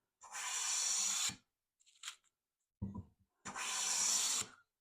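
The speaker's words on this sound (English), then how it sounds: "what I have here is a piece of basswood. And as you can see, it's planing beautifully." A hand plane shaves basswood in two long, steady rasping strokes, separated by a couple of short scraping sounds, close and alone with no talk.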